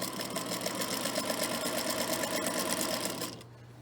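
A sewing machine stitches a sashing seam on a quilt, running in a steady, close, buzzing whir for a few seconds before stopping abruptly.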